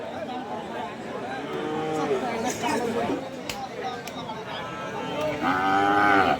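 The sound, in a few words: cattle mooing at a cattle market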